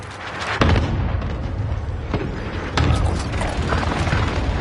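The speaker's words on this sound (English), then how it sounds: "Enemy precision airstrike. Take cover." Precision airstrike blasts in Warzone land as loud booming impacts, with two sharp hits standing out over a rumbling, continuous battle din.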